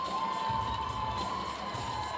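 Crowd at a college gymnastics meet at Clemson cheering and shouting, a dense wash of many voices with high-pitched yells, loud and sustained throughout.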